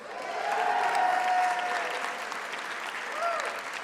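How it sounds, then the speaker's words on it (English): An awards ceremony audience breaks into sustained applause, a dense, steady clapping that swells and holds while a voice carries faintly over it. "Let's give one final round of applause to our 20 finalists who are truly inspirational."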